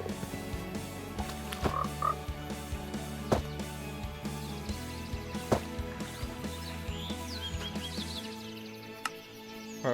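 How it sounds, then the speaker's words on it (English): Frogs croak steadily in a video game scene with frog lamps, a dense chorus of repeated croaks layered over a droning game soundtrack, with a few brief clicks along the way. "We have a bunch of froggies."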